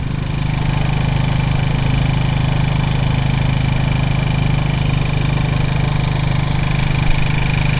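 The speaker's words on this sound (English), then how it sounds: "It's a very noisy little motor." A Hyundai Veloster N engine fitted with a SXTH Element intake idles steadily and loudly close by, a constant droning hum with no pauses.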